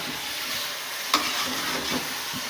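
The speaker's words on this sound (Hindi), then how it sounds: "प्याज और गोश्त को एक जान दो कल्ब करना है" Onion and meat for Kabuli pulao fry in a pot with a constant sizzling hiss, a single sharp scrape of the stirring utensil marking the middle, and no voices.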